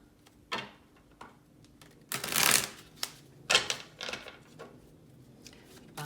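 Tarot cards being shuffled by hand, a few soft flicks followed by two louder riffling bursts and lighter taps, close and fairly quiet, with no talking.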